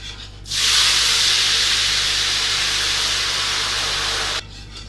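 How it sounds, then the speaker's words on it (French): Chicken stock poured over grilled chicken thighs cooked with butter and honey, a sudden loud hiss of steam that holds steady for about four seconds, then cuts off. "maintenant que mes cuisses de poulet sont bien grillées, on va pouvoir déglacer avec un peu de jus du fond"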